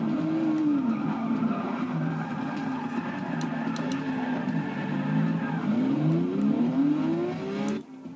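A Porsche skids in Forza Motorsport 6 with a loud, sustained tire squeal that rises and falls over a droning engine, with no talk, then cuts off abruptly at the end.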